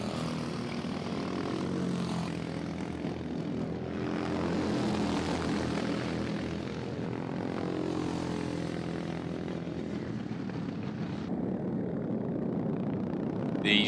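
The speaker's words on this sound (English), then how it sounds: "4 karts together as they come to the pit lane turn." Sprint 390 racing karts on a circuit, several of them together approaching the pit lane turn, their engines a continuous buzzing drone that swells and fades as they pass.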